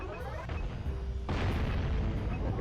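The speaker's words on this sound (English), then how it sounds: "we're able to shoot the Pelican with the cannon" A cannon fires at the Pelican in the Jak 1 video game, letting out a deep boom that swells into a loud, sustained blast over a low rumble.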